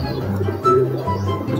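Domestic racing pigeons cooing close by in a loft, a low soft repeated throaty warble with a brief louder coo in the middle.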